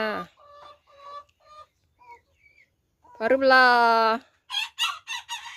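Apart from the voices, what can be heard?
chickens clucking and rooster crowing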